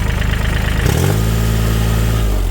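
A used Kubota L3608 tractor's engine idles, then revs up sharply about a second in and holds a steady, loud, close drone with no voices.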